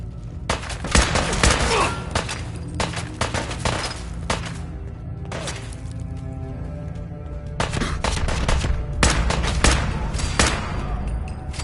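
Heavy gunfire in the post-apocalyptic shooter Fallout 4 fills the scene: dense volleys of sharp shots and crashing impacts. Bursts come close together with brief lulls, loud and near throughout.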